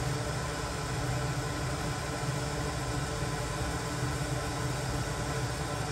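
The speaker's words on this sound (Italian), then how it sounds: "Ok, girato quindi il pezzo, facciamo anche l'incisione dall'altra parte" A Wattsan FL TT 30W fiber laser marker engraving stone and aluminum gives off a constant, even hiss-like hum with a faint low drone, unchanging throughout.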